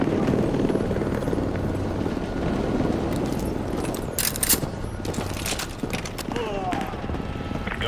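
An attack helicopter in the video game Modern Warfare 2 roars with a loud, steady rotor drone, overlaid by sharp bursts and impacts in the middle and later.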